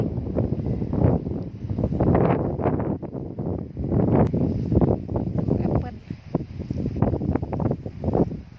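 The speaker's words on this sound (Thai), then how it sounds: "ลมมันแรงมันหนาวอ่ะเพื่อนๆ" Strong, cold wind gusts against the microphone outdoors by a snow-melted vegetable garden, producing rough, uneven buffeting bursts that come and go throughout.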